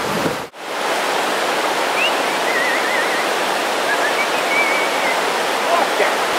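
A river rushes in a steady, loud broadband roar that holds constant throughout, with faint bird chirps or whistles barely audible over the water.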